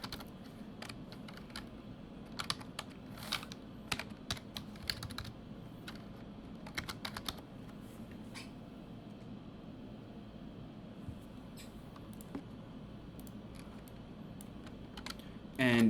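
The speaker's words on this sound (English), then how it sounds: "In this instance, I have to actually type in each row, so this may take a little bit of time." Keys clatter on a computer keyboard in scattered bursts as rows are entered one by one, quiet and close over a steady low hum, with a long lull before typing resumes.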